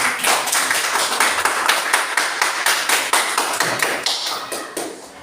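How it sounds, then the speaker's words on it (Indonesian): Students in a classroom clap for a classmate, a brisk run of sharp, fairly loud hand claps with a loose rhythm that gradually tapers off over about five seconds. "beri tepuk tangan untuk temannya"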